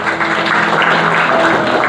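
A church audience claps together in a steady, fairly loud burst of mixed hand applause lasting a couple of seconds, with no voices over it.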